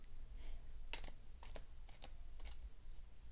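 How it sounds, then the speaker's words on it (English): Tarot cards are shuffled on camera, giving a quiet series of short riffling clicks about every half second over a soft background hum. "I love to shuffle on the camera"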